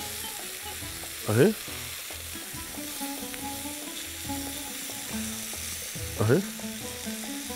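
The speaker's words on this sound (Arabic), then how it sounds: "طيب كده هنا نقلب اللحمه بتاعتي" Lamb ribs frying and sizzling on a grill, a steady close sizzle with two brief louder flare-ups as the meat is turned, while a voice briefly calls out.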